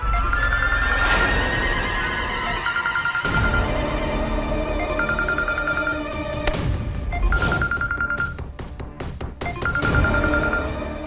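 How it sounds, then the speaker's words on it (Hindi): Telephone ringing with an incoming call in a domestic scene from a Hindi TV drama, the electronic ring repeating in regular bursts over a loud dramatic background score. "भाई ये तो उसी नंबर से कॉल आ रहा है जिस नंबर पे इसने फोन किया था।"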